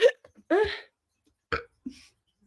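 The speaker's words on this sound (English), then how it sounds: "I am burping" A man burps several times in short, separate bursts during casual conversation, each belch loud and close with brief pauses between them.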